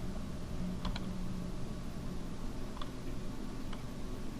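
Sparse keystrokes on a computer keyboard, a few separate clicks near the start, middle and end of a command entry, over a steady low room hum.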